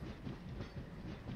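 A Golconda Express train in a train simulator game rumbles along with a steady rolling clatter of wheels on rail, fairly faint and continuous; no voices.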